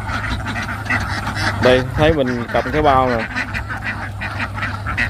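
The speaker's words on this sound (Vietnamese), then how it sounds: "Vịt nó lại cái nhà ơi, nó tưởng mình cho thức ăn nó gì vậy." Several ducks quack loudly and close by, crowding in as if expecting food near a canal-side path. Their harsh, repeated calls come in bunched bursts over someone talking throughout.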